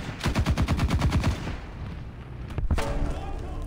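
Tank gunfire in the mobile game War Thunder Mobile: a rapid run of about ten machine-gun shots, then a pause and a heavier blast with further rattling, all loud and close.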